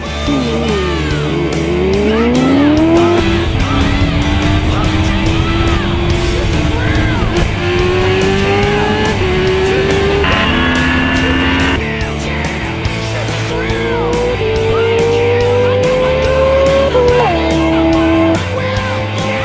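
Loud high-revving engines of sport motorcycles, including a Kawasaki H2R, Suzuki Hayabusa, BMW S1000RR and KTM 1290, scream and climb through gears one after another in a drag race, with rising pitch sweeps as they accelerate hard past.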